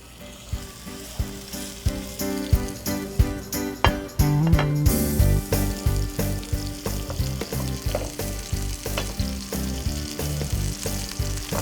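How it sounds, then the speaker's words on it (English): Steady loud sizzling of pork chops frying in a pan, with repeated sharp clicks and pops throughout and no talking. "I always like to hear the sizzle, but I just have to make sure I don't burn it."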